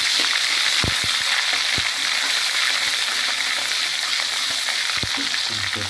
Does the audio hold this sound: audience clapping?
no